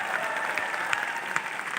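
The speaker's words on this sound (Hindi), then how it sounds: "पहले तो जोरदार तालियां विनायक पांडे सर के लिए" An audience at a business anniversary celebration gives loud applause for Vinayak Pandey. The clapping is continuous and close, with a few sharper individual claps cutting through.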